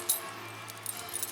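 A ring holding 29 elevator keys from makers such as EPCO, Otis and Adams jingles briefly, a sharp metallic rattle at the start followed by a few softer clinks close by.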